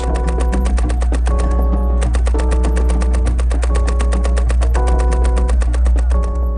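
A Maxim machine gun fires a long, rapid, continuous burst of evenly spaced shots, loud and close, with a steady mechanical rhythm throughout.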